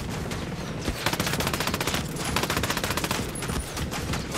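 Enemy gunfire in the video game Ghost Recon Breakpoint: dense, rapid automatic bursts and overlapping shots crackle without a break, loud and continuous throughout, with no talking.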